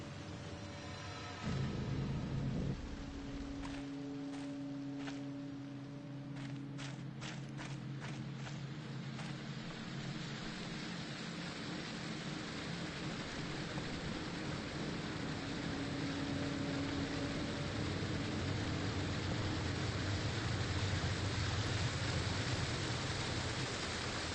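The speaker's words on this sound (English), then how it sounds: "The waterfall is beautiful as it flows down" Steady broadband rush of a waterfall flowing down a mountain in the Fatal Frame 5 video game, continuous and moderately loud, with brief low tones and a run of sharp clicks early on.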